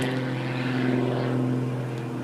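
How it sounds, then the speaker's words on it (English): An MX2 aerobatic airplane performs at an airshow, its propeller engine droning steadily and loudly with a strong harmonic hum that holds throughout as it tumbles and rolls. "Rolling the airplane, just throwing it out of control, tumbling it through the sky"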